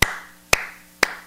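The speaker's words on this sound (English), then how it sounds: "clapping your hands or beating on a piece of wood or something like that" Hands clapping a slow, even rhythm: three sharp, close claps about half a second apart, each ringing briefly before fading, with no talk.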